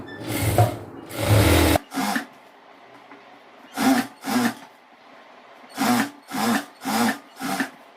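A sewing machine stitches a chudidhar gathering pant in a tailoring lesson, running in short separate bursts of a few stitches each with quiet pauses between them and no speech.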